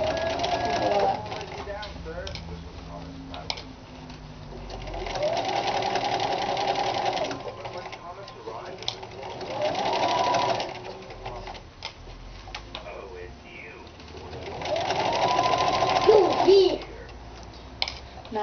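A sewing machine stitches a Kapp-style Christian headcovering cap in several bursts of rapid mechanical whirring, separated by short pauses, close by, with a person talking over and between the runs.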